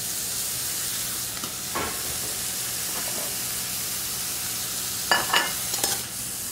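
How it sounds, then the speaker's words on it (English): Braised short ribs going back into a hot pan, giving a continuous hiss of sizzling with a few louder crackling bursts toward the end as the meat is moved, no speech. "Going to add the short ribs back to the pan."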